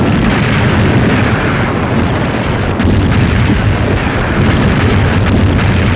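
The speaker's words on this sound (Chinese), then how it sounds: "又一次向敌人坚固攻势发起猛烈炮击" Artillery bombardment pounds a fortified enemy position in a war scene, a dense, continuous roar of overlapping booming explosions at steady high loudness without pause.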